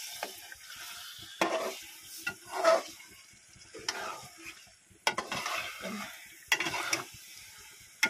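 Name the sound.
stirring vegetables frying in a pan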